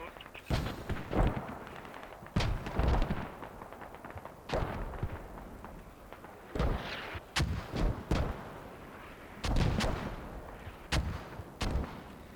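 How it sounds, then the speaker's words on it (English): In the tactical shooter game Squad, mortar shells land in a series of heavy booming explosions with rumbling tails, spaced irregularly and some distant, with faint voices underneath. "Mortars are landing exactly where they need to be."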